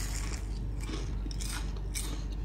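Crispy fried Lembang tahu susu tofu is bitten and chewed close up, giving several sharp crunches in a loose rhythm over a steady low background hum.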